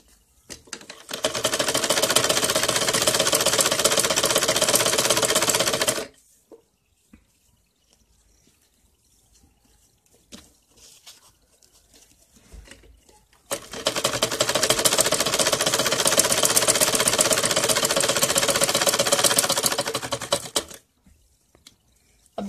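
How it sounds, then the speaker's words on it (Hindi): A sewing machine stitching a salwar runs in two long, steady buzzing bursts, close and loud, with a quiet gap between them and no talking over it. "अभी देखिए मैंने इसको सिल लिया है।"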